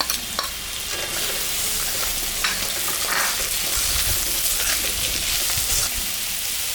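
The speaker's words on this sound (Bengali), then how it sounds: "আলু পেঁয়াজটা ভাজা ভাজা হয়ে গেছে" Loud, steady sizzle of potatoes and onions frying with salt and turmeric, with a few scraping stirs and clinks of a utensil against the pan, heard up close.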